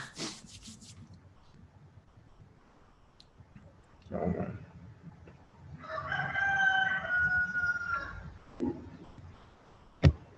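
A rooster crows once at mid-distance, a drawn-out cock-a-doodle-doo rising out of a quiet background, framed by a few soft knocks and a sharp click near the end.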